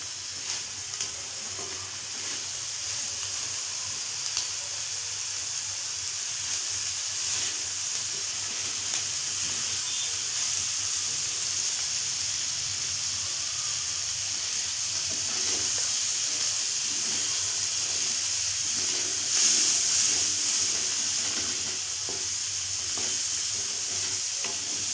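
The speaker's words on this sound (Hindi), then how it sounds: "थोड़ी देर इसको भून लेंगे," A dry fruit and peas chaat with chopped green coriander sizzles and hisses steadily as it is stirred and roasted in a hot pan over a gas flame, close and continuous with no talking.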